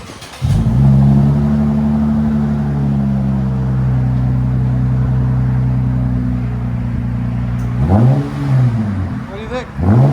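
A 2014 Lexus IS 250 with a 2.5L V6 and a resonator and muffler delete exhaust rumbles loudly at a deep idle, then blips through two sharp revs near the end.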